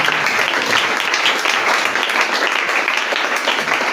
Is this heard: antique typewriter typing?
no